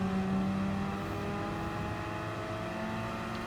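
Gr.4 race car engines in Gran Turismo Sport at Brands Hatch, a steady layered drone of several cars running close together at speed, with a near engine holding a high, even tone throughout.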